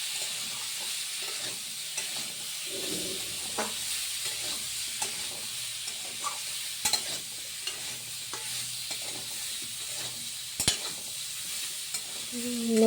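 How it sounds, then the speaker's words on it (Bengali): Potato pieces fry in a pan with salt and turmeric, with a steady sizzle broken by occasional clinks and scrapes of a spatula stirring them. "লবণ আলু হলুদ দিয়ে ভালো করে ভেজে নিচ্ছে আলুটা"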